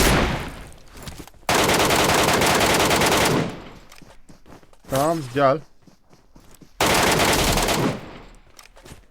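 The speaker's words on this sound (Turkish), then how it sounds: "arkadan gelen silah sesleri" Bursts of automatic gunfire from behind the player in the mobile battle-royale game PUBG Mobile, three loud sustained volleys with short gaps, interrupted by a brief spoken remark.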